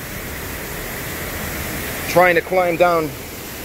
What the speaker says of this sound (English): the bottom of this beautiful waterfall that I just found